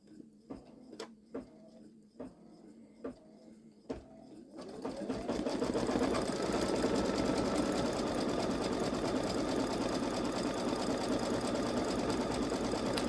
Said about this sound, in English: now it's going to stitch out the top words for Charlie Kirk.